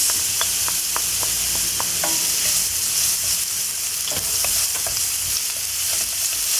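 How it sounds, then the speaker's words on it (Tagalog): Onions and garlic sautéing in hot oil in a pan give a steady, close sizzle, punctuated by scattered sharp clicks and scrapes of stirring. "we have to saute the onions and garlic first"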